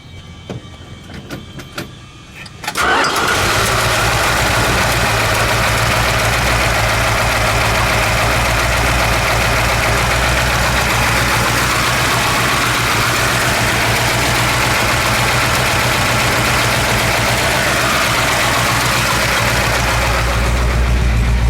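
A 1970 Dodge Challenger R/T with a 426 Hemi V8 and pistol-grip four-speed fires up after a brief starter crank and settles into a loud, steady, rumbling idle close by.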